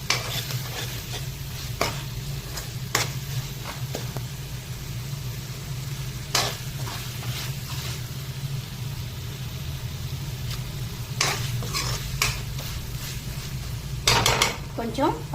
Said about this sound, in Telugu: కొంచెం పచ్చివాసన పోయేంత వరకు వేయించుకున్నాం